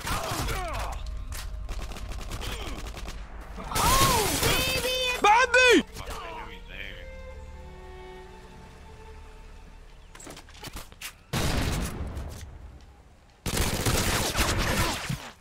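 Bursts of Modern Warfare 2 gunfire come in short dense clusters separated by quieter stretches, loud and close, with a voice and game noise between the volleys.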